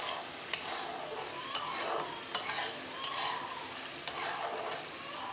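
Spices frying in mustard oil for a Bengali Bhola fish curry, stirred in a pan with a steady sizzle and sharp periodic scrapes of the spoon against the pan, close and moderately loud, with no talk.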